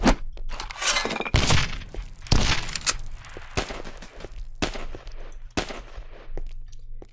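Grenade explosions and gunfire in the blocky first-person shooter Open Spades: sharp, loud bursts and thuds break out irregularly, several heavy blasts standing out among smaller cracks and clatter, with no talk.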